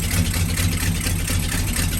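The carbureted 5.2 engine of a 1971 Kayot boat runs steadily at idle, a close, loud, low rumbling throb with an even pulsing beat throughout.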